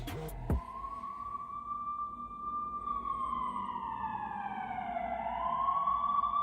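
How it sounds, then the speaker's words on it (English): Police sirens open an Albanian rap track, one siren wailing in a slow rise and fall while a second, higher tone sweeps across it, preceded by a couple of sharp hits at the very start. "police sirens are the first thing you hear"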